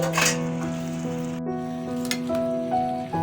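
Thin slices of taro (gabi) sizzle in a hot pan while being sautéed, a steady frying crackle broken by a few light utensil clinks.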